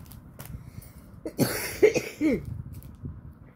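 A few harsh coughs from a person with a cold close by, clustered together, rising out of a quiet room.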